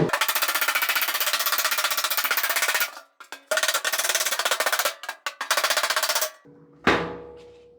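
Hammer blows ring out on sheet metal as a headlight flange is leveled for a Mini Cooper headlight install on a 1940 Ford-inspired build: loud, rapid, steady metallic strikes for about three seconds, then shorter bursts with brief pauses and a final ringing hit.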